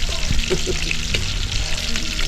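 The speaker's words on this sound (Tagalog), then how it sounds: "Gigisay na po ang ating mga ricado mga kaibigan para sa adobo" Garlic sautéing in hot oil for adobo, a loud, dense, continuous sizzle and crackle close by, with faint scrapes of a utensil stirring through it.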